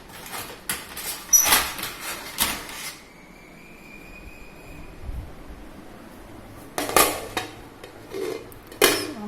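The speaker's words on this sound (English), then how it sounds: "So let me put the lid." Metal clatter of a lid set onto a cooking pot of sabudana khichadi, several sharp clanks and scrapes near the start, a quiet stretch with a faint tone, then more clinks near the end.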